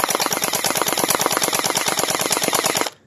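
A cheap toy gel blaster fires a long rapid burst at a thick banana leaf, a loud continuous rattle of closely spaced shots lasting nearly three seconds before cutting off abruptly.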